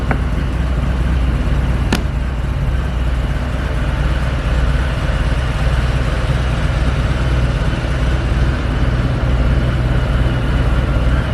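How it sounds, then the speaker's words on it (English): A 2020 Harley-Davidson Softail Heritage Classic 114 with its 114 cubic inch Milwaukee-Eight V-twin idles at about 1100 RPM, a loud, steady, deep rumble close by, with one brief click early on. "114 cubic inch Milwaukee-Eight engine"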